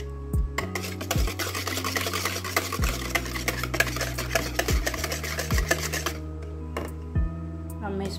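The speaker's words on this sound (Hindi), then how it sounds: "अब मैं इसको मिक्स करती हूँ" Spices like salt, chili, garam masala and cumin powder being stirred into a bowl for dahi bhalla, soft scraping and tapping of a spoon, close, with music playing over it throughout.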